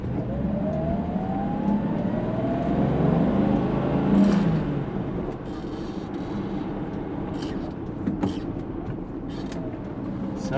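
A 1966 Mercedes W111 250SE Coupe with a four-speed manual runs on a test drive, its engine a steady, close drone that swells as it pulls and then eases back into a lower hum.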